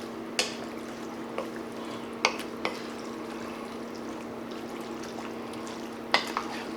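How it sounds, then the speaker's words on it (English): A spoon scrapes and knocks around andouille sausage chili in a Dutch oven, giving a few sharp clinks over a faint steady simmer, close and without talk. "We're gonna mix all that up real well."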